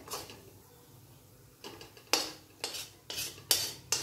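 A metal spoon stirs small pieces of a crispy Diwali snack frying in a pan of oil, giving several sharp scraping clinks against the pan over a faint sizzle, close up with no talking.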